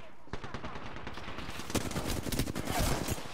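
Rapid automatic gunfire in the Apex Legends shooter, dense overlapping bursts of shots crackling continuously at moderate loudness, with players talking faintly underneath.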